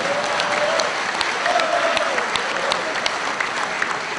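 A lecture audience breaks into sustained applause, a dense, even wash of many hands clapping close by, with a faint voice briefly heard within it.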